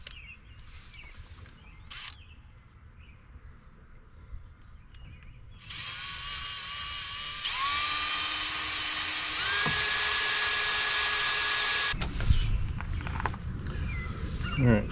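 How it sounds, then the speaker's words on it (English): A power drill fitted with a 1/4 inch bit bores holes for a Hydro Shield install, whining in several bursts that rise and hold steady for seconds, loud and close, separated by quieter handling noises. "we're going to use a 1/4 inch drill bit here"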